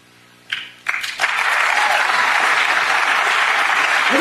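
Audience applause and cheering from a crowd at a talk show, starting with a few scattered claps and quickly swelling into steady, loud applause that fills the rest of the clip.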